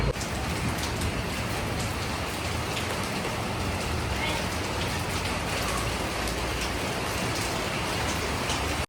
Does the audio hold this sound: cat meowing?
no